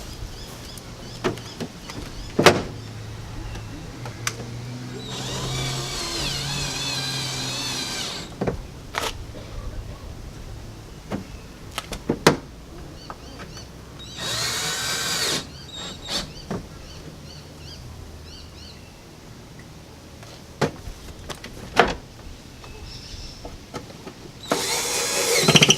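A power drill drives self-tapping metal screws into a car body kit on an R32, with several short whirring bursts separated by quiet gaps, clicks and handling noises.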